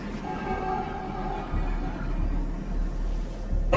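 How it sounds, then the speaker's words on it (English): Rumbling train-like sound effect from the StarCraft 2 co-op mutation Undead Subway Express, as trains depart from stations, a steady low rumble with faint tonal lines, alone without speech. "Trains are departing from both stations."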